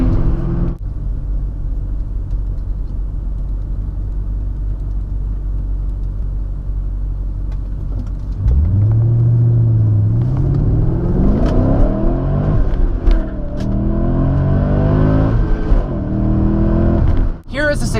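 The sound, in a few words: car engine over-revving past the red line, manual transmission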